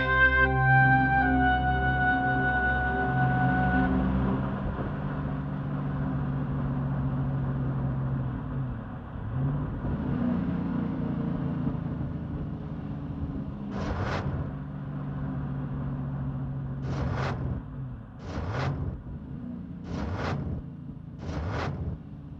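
A car engine in a Hindi horror radio drama, a steady low rumble that shifts in pitch as it labours, with several short sharp bursts near the end and no talking.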